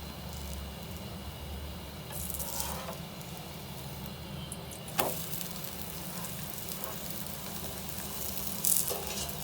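An onion paratha brushed with desi ghee sizzles on a griddle over low heat, a steady close crackle and hiss with a few brief louder pops and scrapes.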